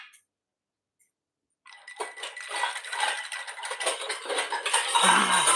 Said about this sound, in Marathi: भांड्यांचा आवाज येतो.